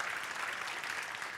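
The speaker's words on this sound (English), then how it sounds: "Thank you for starting that clap." An audience at a men's seminar claps in a steady, continuous burst of applause from many hands, filling the short moment evenly without any speech over it.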